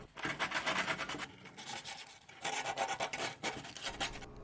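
Thin metal flashing edges are rubbed smooth with sandpaper for a DIY chip tray on a Harbor Freight band saw, giving steady, soft rasping strokes that repeat in a quick rhythm, close up and quiet.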